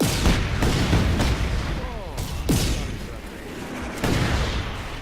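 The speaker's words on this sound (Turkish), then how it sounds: "Çok fena patladı." Several booming blasts and gunfire-like bursts from the video game Just Cause 3 ring out in quick succession, loud and close, with a voice talking between them.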